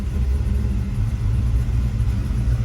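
A 1995 Impala SS engine idles steadily at close range, a loud, even low rumble with no revving, running alone without voices.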